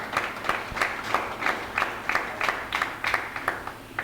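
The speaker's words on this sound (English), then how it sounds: "I think you people should clap for this man" A crowd at a Marcus Garvey celebration event in Barbados claps in a steady, rhythmic pattern, the beats evenly spaced and moderately loud, with light crowd murmur underneath.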